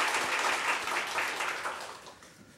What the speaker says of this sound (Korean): 우리 살아계신 하나님께 영광의 박수 한번 하시죠